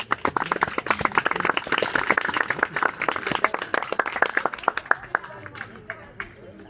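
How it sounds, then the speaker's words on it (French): Audience applause at a Belle Époque costume parade in Breteuil, as a crowd claps for restored 1900s period costumes; dense, sustained clapping fills the air, then thins into scattered claps as a voice resumes. "de restauration de la part de Christine, qu'on peut, je pense, applaudir."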